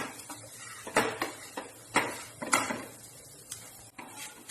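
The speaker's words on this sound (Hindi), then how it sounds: "अब हम इसको करीबन 5 मिनट अच्छे से भूनेंगे" Wheat flour is roasted and stirred in a pan for halwa, with a spoon repeatedly scraping and clinking against the metal in irregular close taps and scrapes.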